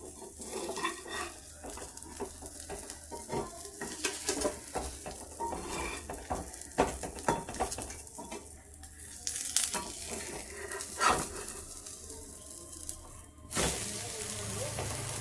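An omelette fries in a pan after being flipped, with a soft continuous sizzle beneath close, irregular clinks and scrapes of a utensil against the pan.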